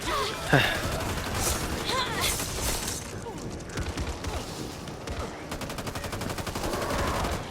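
Gunfire in the co-op zombie shooter Back 4 Blood, loud rapid bursts and repeated shots crackling close in over several seconds, with voices mixed into the action.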